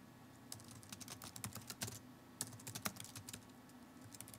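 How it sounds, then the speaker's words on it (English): A note being typed on an on-screen keyboard in a Bible app, heard as a quick, irregular run of light, close tapping clicks over a quiet room hum. "I simply type my note in here using the keyboard"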